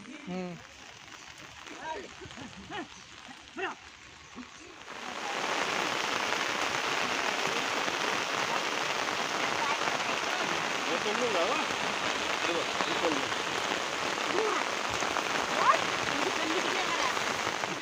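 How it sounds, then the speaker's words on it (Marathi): Someone talks briefly by a river in Konkan rice fields, then heavy rain bursts in: a loud, steady roar of downpour drumming on surfaces that continues without a break. "जसा जसा पाऊस वाढतोय तसा तसं नदीच्या पाण्याची स्पीड सुद्धा वाढते"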